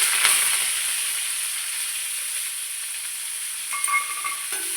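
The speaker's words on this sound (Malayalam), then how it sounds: "കടുക് പൊട്ടി നമുക്ക് അരിഞ്ഞ് വെച്ച സവാള ഇട്ട് കൊടുക്കാം" Chopped onion added to hot coconut oil with popped mustard seeds, giving a steady bright sizzle close up and a brief stir near the end.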